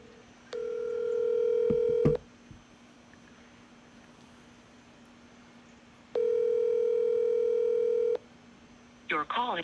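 A telephone tone rings out in two long, steady bursts separated by a quiet gap while a call is placed, followed by a brief burst of dialing tones at the end; clear and close over a faint background hiss.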